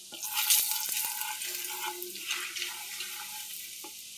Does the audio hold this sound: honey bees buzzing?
no